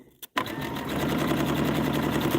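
A sewing machine stitches quilt star blocks, starting after a brief pause and then running steadily and close with a fast, even mechanical whir.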